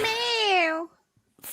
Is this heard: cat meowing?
yes